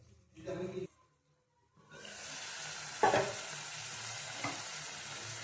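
Ivy gourd (tondekayi) fries in oil in a pan and is stirred, a steady close sizzle starting after a short muffled sound and a pause, with a couple of sharp scraping strokes.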